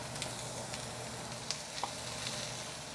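Chunks of onion sizzle and fry in hot oil in a wok for a beef stir fry, a steady close hiss broken by a few small pops and crackles, with no talking.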